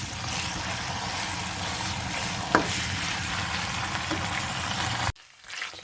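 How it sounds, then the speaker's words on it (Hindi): Chicken pieces frying in a pan during cooking, a steady, close sizzle with occasional stirring and a brief clatter, cutting off sharply near the end to a quiet room. "चार से 5 मिनट चिकन को यहाँ भूनना है"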